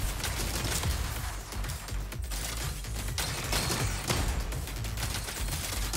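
A spider enemy in the video game Uragun fires bullets in a dense, continuous barrage of rapid gunfire lasting throughout, loud and unbroken.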